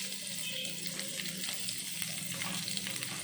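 Chopped onions fry in hot oil for sambar, a steady, close sizzle with light stirring throughout.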